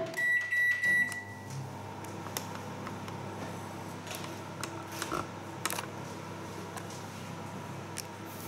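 Microwave oven running while warming cake pop glaze, a steady low hum with a few beeps near the start and faint clicks over the continuous drone.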